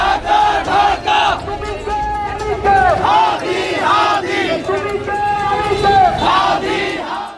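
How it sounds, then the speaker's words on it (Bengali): A crowd of students and local people at a protest rally in Munsiganj, Bangladesh, loudly chanting slogans in unison, with rhythmic call-and-response shouts repeating throughout, close and dense. "বিভিন্ন স্লোগান দেন"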